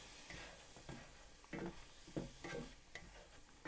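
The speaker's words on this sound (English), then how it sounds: "we're going to add chicken broth to this. This will help me get these veggies cooked up a little bit and deglaze the bottom of this here pan." Chicken broth hits a hot pan of cooking vegetables for black-eyed peas, producing a soft steady sizzle with occasional bursts of stirring and scraping, fairly faint and close.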